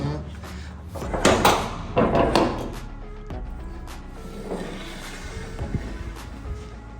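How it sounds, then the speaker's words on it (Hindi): Wooden door creaks and thumps as it is opened, with a few knocks and rattles close by, then quieter handling noises while a voice talks nearby. "चलो दरवाज़ा ओपन करते हैं।"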